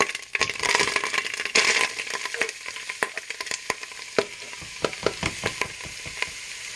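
Three chopped onions go into hot oil already holding ginger garlic paste, a burst of loud sizzling that settles into a steadier fry, punctuated by sharp irregular clacks and scrapes of a stirring spoon, close and without speech.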